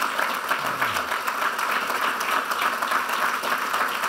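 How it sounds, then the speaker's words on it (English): Employees applaud at a government press conference celebrating new CHIPS funding at a GlobalFoundries site in Essex, Vermont: steady, dense clapping from a moderate-sized crowd, even and sustained throughout. "So give yourself a round of applause,"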